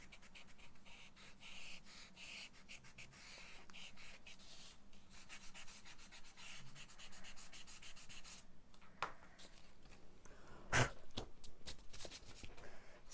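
An eraser rubbing out marks on a handmade Christmas card, a soft steady scrubbing heard close up, with a few brief scratchier strokes near the end.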